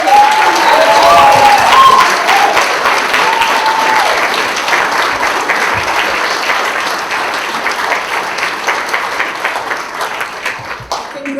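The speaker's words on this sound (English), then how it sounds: "Ladies and gentlemen, a round of applause for our 2025" An auditorium audience applauds the winners at the 2025 Kingswood Turnaround Achievement Awards, a loud, sustained wash of clapping from a large crowd that fades slowly over about eleven seconds, with a few whoops near the start.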